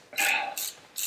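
A Land Rover TD5 viscous fan flange is tightened back on with a tool, making three short, close metallic ratcheting clicks spaced across about a second.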